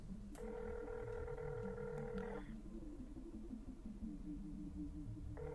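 Telephone call tone in the video game Radiator 2, a steady electronic ring burst lasting about two seconds, then a brief restart at the end over faint background hum.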